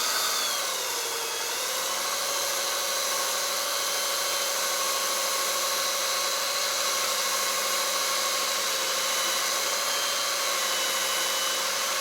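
A power polishing tool buffs the chrome grill of a 1972 K25, making a loud continuous high whine with a steady pitch that drops briefly near the start and then holds, close up, with no talking.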